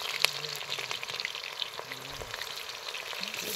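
Onions fry in a pan at an outdoor jungle picnic, a soft steady sizzle with scattered sharp pops and clatter, while faint voices and tonal sounds drift in the background.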